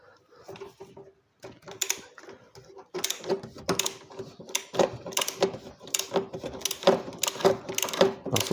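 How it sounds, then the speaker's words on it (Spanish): A 27 mm socket ratchets as it loosens the oil filter cartridge cap on a Peugeot 308 1.6 HDI, a series of close, sharp clicking and metallic knocks that come in irregular bursts after a brief pause. "Con una 27 de bazo vamos a aflojar el cartucho de filtro de aceite"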